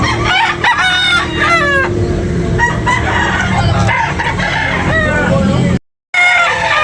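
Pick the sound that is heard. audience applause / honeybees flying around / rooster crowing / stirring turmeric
rooster crowing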